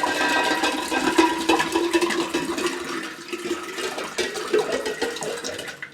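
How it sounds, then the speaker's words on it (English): Water poured into a flower vase for a fan-shaped Valentine bouquet, a steady close rushing and splashing stream that runs for several seconds and thins slightly toward the end. "right now I'm going to add some water to my vase."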